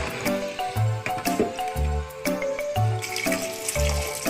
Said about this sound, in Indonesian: Sudah dibersihkan lalu kasih air bersih dan cuci kembali, cuci yang bersih.